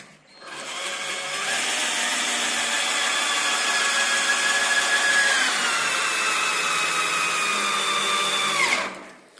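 A cordless screwdriver drives a screw into wood while a garage loft ladder is assembled, making a steady whining motor hum that rises in pitch and then bogs slightly under load for about eight seconds before stopping abruptly.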